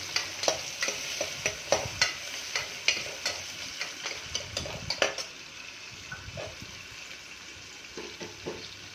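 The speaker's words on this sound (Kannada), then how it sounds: "ಒಂದೆರಡು ಮೀಡಿಯಮ್ ಸೈಜ್ ಈರುಳ್ಳಿ ಚೆನ್ನಾಗಿ ಫ್ರೈ ಮಾಡ್ಕೊಳ್ಳೋಣ" Two medium onions frying in a pan for vegetable saagu, a soft continuous sizzle broken by frequent rhythmic scrapes and clinks of a spatula stirring against the metal.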